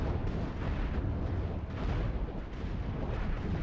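Missile launchers on a custom-built ship in the space-engineering game Cosmoteer fire continuously, a dense, loud rumble of overlapping blasts and bursts that carries without pause for several seconds, with no voices.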